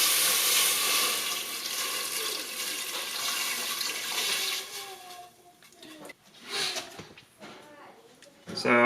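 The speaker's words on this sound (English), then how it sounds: "we're going to go ahead and add our water now" Water poured into a hot, burning pan, a broad hissing rush like a running tap that fades out after about five seconds, followed by quieter clatter and a sharp sound at the end, with a person talking over it.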